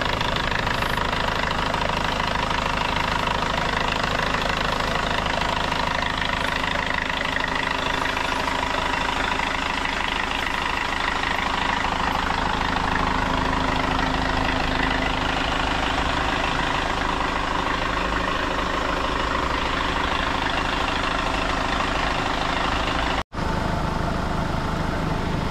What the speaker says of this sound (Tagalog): Ang gagawin lang natin dito mga boss, paandarin para uminit kasi bago ang piston din po nito.